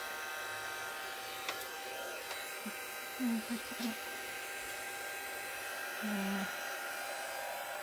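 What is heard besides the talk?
hair dryer drying distress ink on paper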